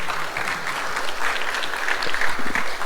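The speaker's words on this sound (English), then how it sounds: "Let's give them a round of applause" An audience at a Sunday love feast gathering applauds its guests with a dense, steady wash of clapping filling the room, sustained loud from start to finish with a faint murmur of voices underneath.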